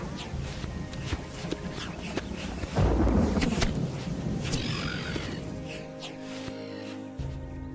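Thunderstorm spell cast at a swamp golem in the Gothic 2 video game, a loud rumbling crash rising midway over background game sounds and fading into a lower drone.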